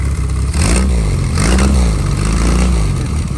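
Lotus/Westfield 7 replica car with Sprite engine idling through its side exhaust, a loud, close, lumpy burble with a slight rise in revs midway.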